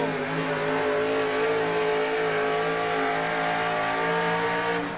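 A monster truck engine roars loud and steady through a racing pull at a 1987 USHRA event in Tucson, sustained revving with no break over several seconds.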